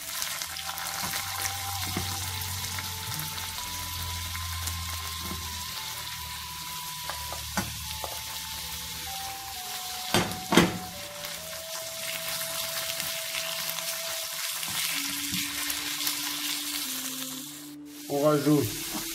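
Onions sizzle and hiss steadily in a wok for Cantonese shrimp, a continuous moderate frying noise with occasional clatters of stirring and a brief sharp scrape near the end.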